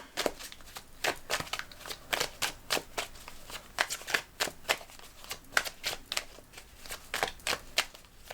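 Tarot cards being shuffled close up, a long run of quick papery riffles and slaps in an uneven rhythm, with no talk over them.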